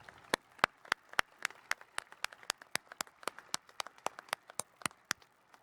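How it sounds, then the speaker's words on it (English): Sparse, sharp claps at a university engineering commencement ceremony, one or a few pairs of hands striking in an irregular rhythm rather than a full crowd, fairly faint and distant with no talking. "Please join me in applauding their contributions to the college."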